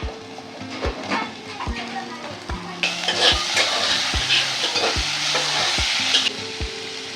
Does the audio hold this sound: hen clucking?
no